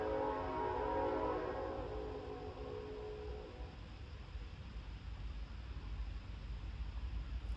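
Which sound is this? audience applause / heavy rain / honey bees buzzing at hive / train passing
train passing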